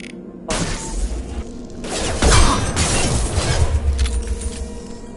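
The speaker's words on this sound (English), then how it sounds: "Hear that? Sounds like Fenris mechs." Fenris mechs approach in Mass Effect 2. Loud mechanical clanking and whooshing bursts start abruptly and grow heavier, with a low rumble and crashing hits building toward the end.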